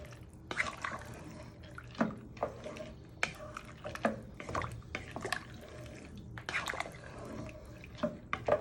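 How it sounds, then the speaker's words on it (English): Split peas being stirred around a soup pot for pea and ham soup give wet, sloshing scrapes with irregular clicks and drips, fairly close and moderately loud, with no voice. "You want to give this a good stir."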